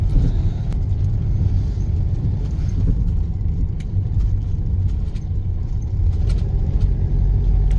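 Steady low rumble of a Mercedes Vito 112 CDI van driving over road bumps on air suspension, with occasional light knocks and thumps from the bumps, continuous and fairly loud.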